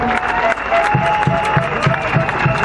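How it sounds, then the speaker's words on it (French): Crowd at an outdoor political speech in Saint-Louis, Senegal, applauds loudly and continuously, the applause mixed with a rhythmic thumping beat and a sustained tone in the background. "je vous demande d'applaudir l'Union européenne"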